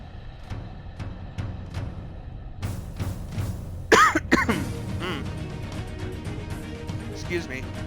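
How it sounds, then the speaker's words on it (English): A person clears their throat and coughs several times in quick bursts, close and fairly loud, with quiet video game battle sounds behind and brief talk around it. "Got a little bit of a cough today."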